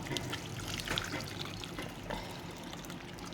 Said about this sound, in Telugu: ఇలా కొన్ని నీళ్ళు పోసి కూడా ఇలా